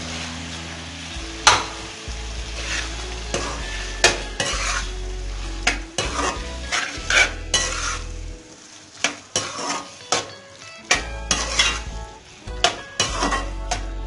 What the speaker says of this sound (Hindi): अब हमने इसमें ये बॉईल किए हुए चने डाल देने हैं।